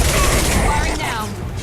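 Gunfire in the Mass Effect video game, a dense, loud, continuous burst of shots layered with mechanical clatter and booming game effects, with a voice briefly mixed in.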